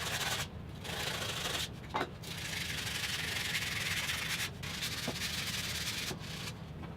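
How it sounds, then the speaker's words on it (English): Hand sanding on exterior door trim with fluted architectural details, steady close scratchy rubbing strokes that continue with short breaks, fairly quiet. "there was a fair amount of hand sanding done here"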